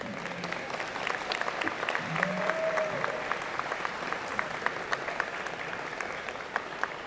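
A steady round of applause from a convocation audience for student leaders at a college of engineering and computer science ceremony, dense and continuous with a brief voice or whistle partway through.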